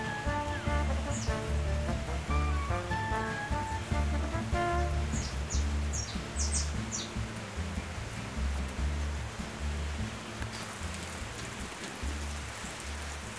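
Steady rain falls on a rural farmstead, a soft wide hiss lasting throughout, with a repetitive musical melody and faint high chirps over it early on.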